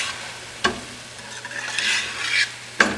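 Aloo baingan, potato and eggplant, is stirred in a pan with dry mango powder: a soft, steady sizzle broken by a few sharp spoon scrapes and clacks against the pan, with a low hum underneath.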